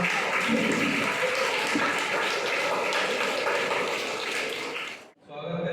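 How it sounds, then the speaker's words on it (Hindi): Audience at a coaching session closing ceremony applauding to welcome two students to the stage, dense sustained clapping that fades out abruptly near the end. "बहुत बहुत तालियों का स्वागत करें दोनों का"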